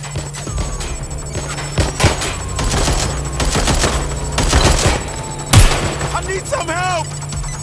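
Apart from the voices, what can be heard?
gunfire in the video game Watch Dogs Legion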